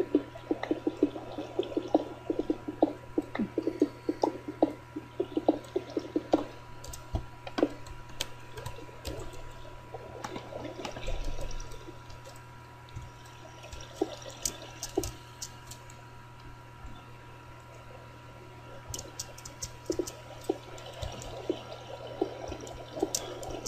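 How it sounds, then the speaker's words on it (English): Water rushing and trickling through a Minecraft ravine, a steady low wash with scattered splashy detail over a constant background hum, fairly quiet and continuous. "It's a shit ton of water down here."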